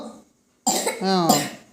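A person gives a short, harsh cough that runs into a strained, voiced throaty sound, close and fairly loud, after a brief silence.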